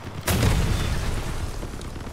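A sudden heavy boom of cannon fire in the vehicle combat game Crossout, a loud blast followed by a rumbling, decaying tail with faint background game noise and no talk.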